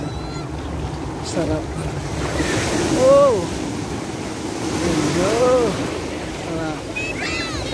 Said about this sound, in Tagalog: grabe pa rin yung alon